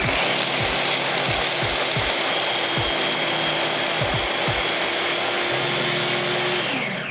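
A food processor blending cashew pesto runs at full speed, a loud steady motor whir with a rhythmic thumping as the ingredients churn against the blades.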